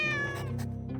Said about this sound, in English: The cat makes throaty noises while occasionally tilting her head back and forth.